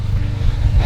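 A Toyota GR Yaris with an aftermarket cat-back exhaust rumbling at idle nearby, a steady deep low drone without revving.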